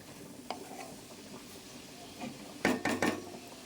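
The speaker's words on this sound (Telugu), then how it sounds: "మళ్ళీ కొద్దిసేపు మూత పెట్టేద్దాము" A metal lid is set on a cooking pan with a few quick clattering knocks near the end, after a stretch of soft sizzling and faint utensil taps.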